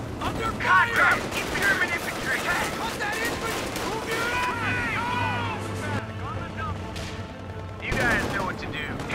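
Rapid infantry rifle and machine-gun fire in Company of Heroes 2, sustained crackling bursts throughout under shouted soldier voices, with vehicle rumble and a louder volley near the end.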